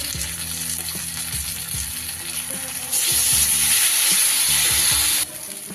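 Ginger, garlic and green chili paste frying in hot oil, a steady loud sizzle that swells sharply midway, with scraping stirs and knocks throughout.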